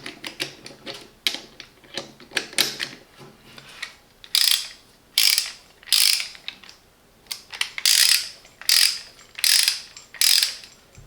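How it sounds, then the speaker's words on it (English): A Parkside torque wrench ratchets as a socket is fitted, a steady series of crisp mechanical clicks close up, speeding into a rhythmic run of loud, sharp ratchet strokes with no talking. "And again to install, press the button."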